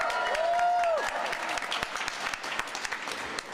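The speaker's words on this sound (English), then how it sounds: "You guys are applauding." An audience at a press conference on manufactured home communities applauds, a dense run of close clapping that thins toward the end, with a brief tone near the start.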